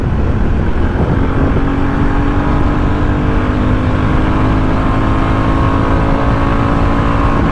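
New 2023 Royal Enfield Bullet 350 motorcycle accelerating hard through first and second gears, a loud, steady engine roar with rising pitch throughout and no voices.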